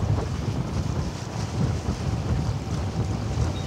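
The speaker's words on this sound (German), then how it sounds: "Boah, jetzt kommt aber Wind auf. Hört ihr das?" Strong wind buffets the microphone aboard a ship at night among cruise ships and container vessels, a continuous loud roaring rumble with a steady wash of noise and no talk.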